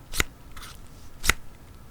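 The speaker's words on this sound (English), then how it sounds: "the sound of scissors scissoring tells you so much about the quality you're getting" Two sharp snips from cheap scissors about a second apart, crisp and close, with a faint rustle between them.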